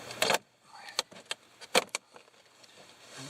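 A zip tool works along vinyl siding panels, unlocking them in a series of sharp plastic snaps and clicks, a few louder bursts separated by quieter scraping, close by with no talking.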